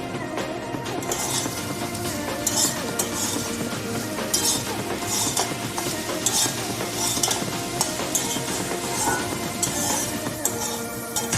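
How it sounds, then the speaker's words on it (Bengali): A spoon stirs chopped coriander leaves into lemon rice in a pan, making steady scraping and soft clinking strokes over a continuous faint sizzle, with no talking. "আর দিচ্ছি কুচিয়ে রাখা ধনে পাতা, এটাকেও মিক্স করে দেবো।"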